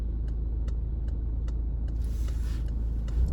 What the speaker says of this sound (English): Cyclist behind the van, black car coming through.